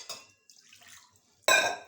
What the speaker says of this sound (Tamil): தண்ணி ஊற்றி இதை வேக வச்சிடணும்.